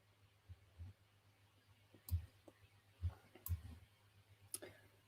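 Sharp, quiet computer mouse clicks come in an irregular scatter, a few spaced taps at a desk with faint background hum between them.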